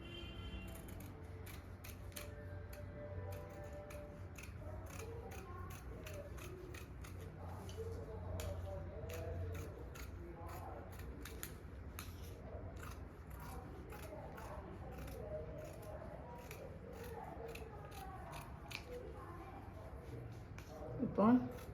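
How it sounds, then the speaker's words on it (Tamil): Scissors make repeated short snips through blouse fabric at a tailoring table, a quiet run of close clicks and cuts. "இதை இப்போ கட் பண்ணி எடுத்துடலாம்."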